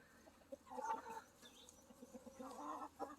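Backyard coop flock of fourteen hens and one rooster clucking softly, a few close, murmuring bursts of low clucks and short calls, quiet overall.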